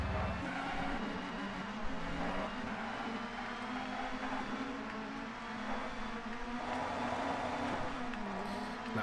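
Touring car engines in TOCA 2 on PS1 drone and rev steadily through a race, a continuous mid-level engine hum with pitch shifts as gears change and other cars pass close by.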